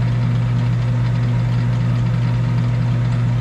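A Sunnen MBB 1600 honing machine runs at a low couple hundred RPM, giving a steady close mechanical hum with a strong low drone and even engine-like pulsing throughout.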